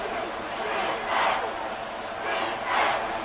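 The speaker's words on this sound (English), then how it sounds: "The crowd getting into it as we come up on a big 3rd down" Broad roar of a stadium crowd cheering in the American football video game Madden 24, a steady wash of noise swelling in two waves, with no distinct voices standing out.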